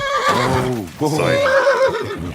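A horse neighs in the video game Kingdom Come Deliverance 2, a loud whinny with falling pitch near the start, then a second call, while someone talks over it throughout.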